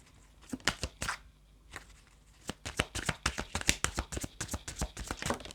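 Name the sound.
shuffling cards for a tarot reading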